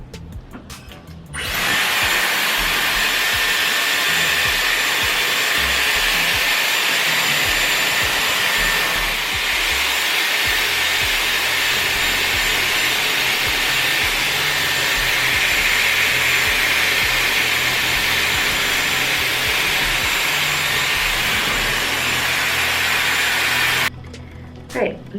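Dyson Airwrap hair styler blowing while curling hair, a loud steady whooshing airflow that starts after a brief quiet moment and runs continuously before cutting off near the end.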